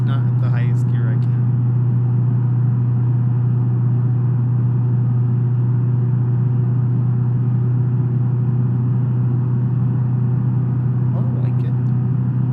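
A car engine in the BeamNG driving game, a loud steady low droning hum held throughout at cruising speed, with faint brief clicks at the start and near the end.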